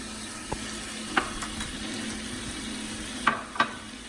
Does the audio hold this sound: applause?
no